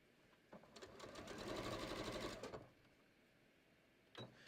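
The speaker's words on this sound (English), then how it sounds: "I'm just going to sew all the way to the end here" A sewing machine runs one steady stitching burst for about two seconds while sewing a patio cushion cover, then stops; a brief click follows near the end.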